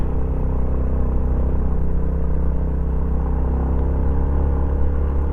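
A motorcycle engine in first gear with a 14/38 sprocket combination drones steadily under heavy load climbing a long steep hill, a constant low rumbling labor with no pauses and no talking.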